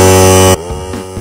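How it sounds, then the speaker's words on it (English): An air compressor fills its tank before a sprinkler system is blown out for winter, giving a loud, steady droning hum that cuts off abruptly after half a second, leaving only faint background noise. "This may take a second for the tank to completely fill with air, depending on your air compressor"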